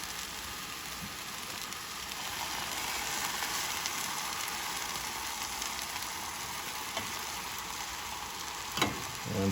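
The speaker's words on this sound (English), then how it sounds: "just get the onions and peppers kind of incorporated here" Onions and peppers fry with vegan sandwich steaks in a pan, giving a soft, steady sizzle throughout with a brief scrape of a utensil near the end.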